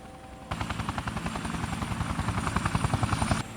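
Police helicopter rotor thudding in a video game, a fast, steady chop that starts abruptly and stays loud and close, with a high whine above, then cuts off near the end.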